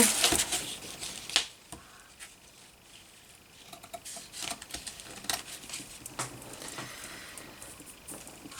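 Scissors snip away excess cheesecloth from a vintage wallpaper pouch, a series of close, crisp cuts and rustles at an uneven pace, with no talking.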